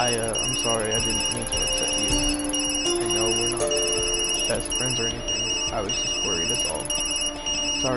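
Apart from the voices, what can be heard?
phone ringing in the video game Tokyo Dark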